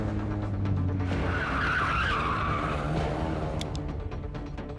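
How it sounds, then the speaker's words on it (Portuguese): A car skids and drifts around a test course, with tires squealing and scrubbing continuously under a loud, rising engine roar. "Agora tá na hora do Ada tentar o percurso derrapando."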